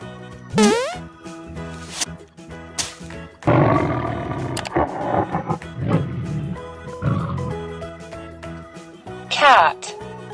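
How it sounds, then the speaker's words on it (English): A toy tiger cub gives a loud electronic roar, long and rumbling in the middle of the clip, between brief boing and zip sound effects and synthesized music, with no talking. "Tiger cub."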